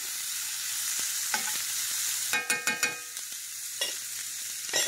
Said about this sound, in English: So we're just going to saute this onion.